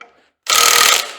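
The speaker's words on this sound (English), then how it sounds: "let me torque these down to spec" A torque wrench tightening bolts on a Muncie 4-speed transmission gives one sharp, loud click-burst that lasts about half a second, up close and alone, after a faint ratcheting.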